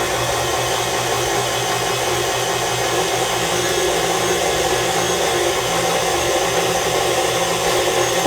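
An electric hand mixer runs steadily through apple cider donut batter with an egg just added, a loud, continuous motor whir holding an even pitch from start to finish with no talking.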